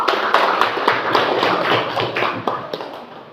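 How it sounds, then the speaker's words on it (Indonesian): An audience in a learning session claps together in a steady, fairly loud run of close, sharp hand claps lasting a few seconds. "tepuk tangan dulu"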